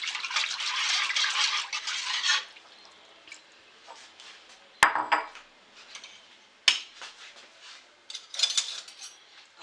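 A spoon stirs spices into yogurt in a bowl for kadhi, giving intermittent wet scraping and clinking in short bouts with brief pauses, and no one talks.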